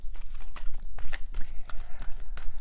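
Tarot cards are shuffled in a quick run of crisp riffling bursts and soft slaps, close and dry, with short gaps between handfuls and no talking.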